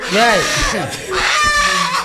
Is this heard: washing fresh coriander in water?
no